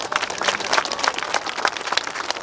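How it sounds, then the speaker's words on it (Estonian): Crowd applause rises for the race winners at the Tahula motorcycle stadium on Saaremaa during a 1988 stadium cross meet, a dense, steady spatter of clapping that keeps going for the whole stretch. "No teeme veel võitjatele aplausi,"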